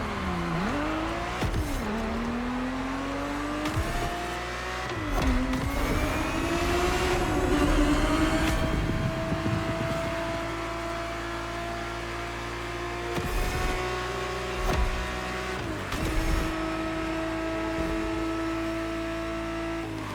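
A Ferrari 365 GTB4 engine in The Crew Motorfest game, revving and shifting through gears with rising and falling pitch sweeps, loud and close, with a few brief tire squeals.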